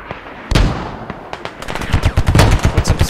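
Bursts of automatic gunfire from a video game battle for a town, laying suppressing fire on a rooftop; a single sharp shot opens, then rapid, loud, uneven volleys crackle close by through the rest.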